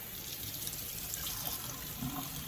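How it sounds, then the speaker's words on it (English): A vegetable is rinsed under a running kitchen tap, giving a steady, close hiss of flowing water with small splashing shifts as it is cleaned, and no talking. "So I'm just going to rinse and clean this one."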